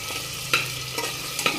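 Cumin seeds sizzling in hot oil with curry leaves and onion in a pressure cooker, a soft steady frying hiss broken by a few sharp clinks of a spoon against the metal pot.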